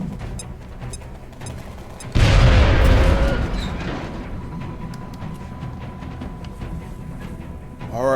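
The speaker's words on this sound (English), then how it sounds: "Throwing grenade." A grenade blast in XCOM: Enemy Unknown erupts with a heavy, loud boom that decays over a couple of seconds, set against a quieter low game ambience.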